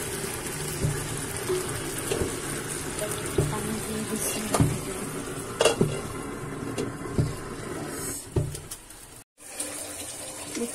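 Radish and puti fish fry in a pan with a steady, close hiss and scattered clatter, and the sound drops out briefly near the end.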